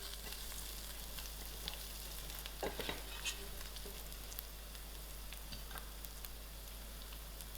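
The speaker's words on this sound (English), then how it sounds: "my onions are browned up nicely, so I'm adding in my curry leaf," Curry leaves frying with browned onions in a pan for a spicy Durban-style curry, a faint continuous crackle and sizzle with a few small pops and light stirring, quiet and without speech.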